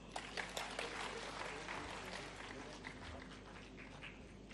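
An audience at a state government event in the presence of the governor and chief minister applauds in welcome, steady clapping continuing at moderate volume throughout, somewhat distant and without a clear break.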